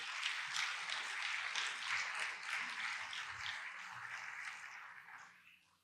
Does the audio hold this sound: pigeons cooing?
no